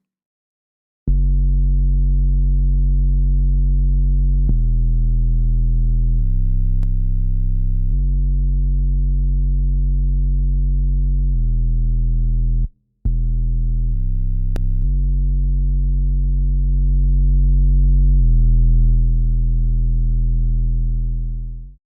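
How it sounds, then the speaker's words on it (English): Synthesized bass notes from a sampled hip hop beat, played solo and switched between dry and processed with a Decimort 2 harmonics plugin, the processed passes carrying added upper harmonics; a loud, steady sequence of sustained tones with one brief gap. "by using a plugin like Decimort 2, it's going to bring out some of those high-end harmonics, which will allow the bass to be a bit more audible"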